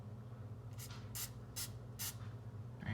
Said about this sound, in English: Lightly grease the sheet pan, this tiny sheet pan.